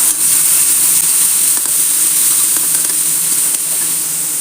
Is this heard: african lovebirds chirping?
no